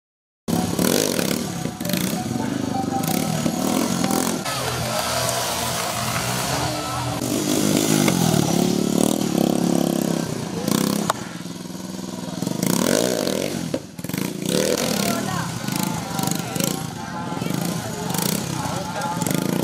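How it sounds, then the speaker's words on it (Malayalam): Motorcycles rev loudly and continuously during a bike stunt show at a local event in Perumbavoor, engine noise swelling and dipping over about twenty seconds with crowd or announcer voices mixed in. "RBKZ പെരുമ്പാവൂർ ടീമാണ് ബൈക്ക് സ്റ്റണ്ട് പ്രദർശനം കാഴ്ചവെച്ചത്"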